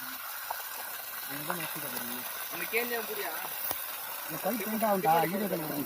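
A 3 hp solar water pump with a 3-inch delivery pipe on a Tamil farm pours a steady, continuous gush of water while someone talks over it.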